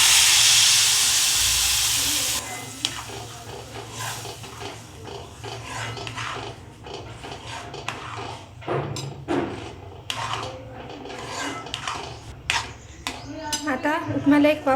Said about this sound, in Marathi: आता उपम्याला एक वाफ काढून घ्यायची